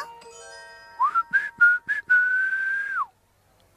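A cartoon character in an animated My Little Pony episode whistles a short tune while working: a few quick rising notes and then one long held tone that stops abruptly, clear and close, with no talking.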